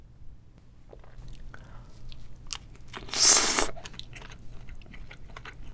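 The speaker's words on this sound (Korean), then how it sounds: "이번엔 간장 찍어서 먹어볼게요" Shrimp dipped in soy sauce is bitten and chewed up close in a quiet Korean seafood-boil setting, with soft crackles and wet mouth sounds building to one loud crunchy burst midway, then fainter chewing.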